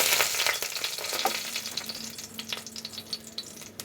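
Dried red chillies, torn by hand, frying in about two spoonfuls of mustard oil, giving a steady close sizzle with soft crackles and pops and no voices.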